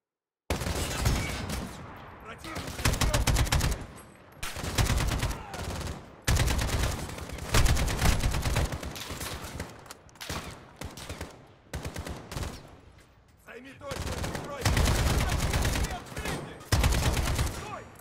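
Sustained automatic gunfire in the shooter game Call of Duty: Modern Warfare, long loud bursts of rapid shots separated by short pauses, repeating throughout with faint background voice.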